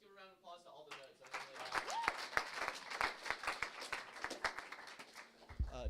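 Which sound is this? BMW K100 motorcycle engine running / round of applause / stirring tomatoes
round of applause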